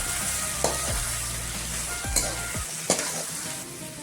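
Lettuce sabzi seasoned with chilli and coriander powder is stirred in a hot pan: a steady close sizzle broken by a few sharp spoon scrapes against the metal, with no voices.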